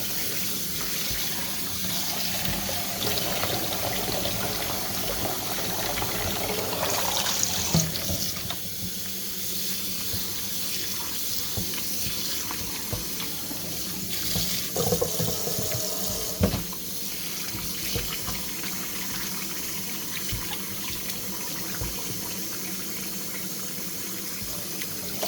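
Tap water running steadily into a sink while dyed acrylic and wool yarn is rinsed, a continuous splashing gush with brief surges and shifts in the flow.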